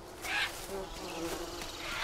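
A wasp buzzing in the jungle survival game Green Hell, a faint, close, wavering drone that rises and falls over a couple of seconds against quiet ambience.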